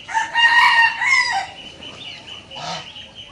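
A rooster gives one loud, drawn-out crow up close in a farmyard where Chinese ducks and geese are feeding, followed by a quieter, brief bird call; no voices.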